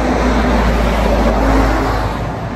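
A vehicle passes along a road, a steady, loud low rumble of engine and tyre noise that holds throughout and eases slightly at the end, with no talk.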